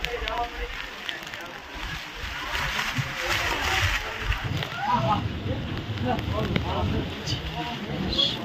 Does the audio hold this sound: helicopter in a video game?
no